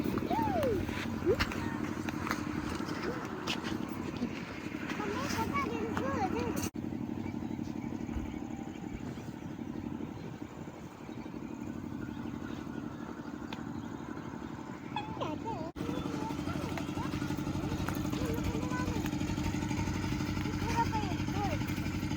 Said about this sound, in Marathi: तिकडे जनरेटर सुरू असल्यामुळे जोरात आवाज येतोय जरा.